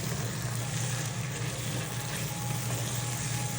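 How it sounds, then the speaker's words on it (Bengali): Meat and melted onions frying for Bangladeshi shahi haleem, giving a steady, dense hiss and sizzle that holds level and close throughout with no talk. "এখন আমি ভালো করে মাংসগুলো কষিয়ে নেব।"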